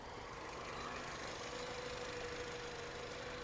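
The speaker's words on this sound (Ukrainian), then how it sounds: "Двигун працює чітко." A 2011 Volkswagen Caddy 2.0 engine running on gas/petrol idles steadily and evenly, a continuous low hum with a faint rattle, unchanging throughout.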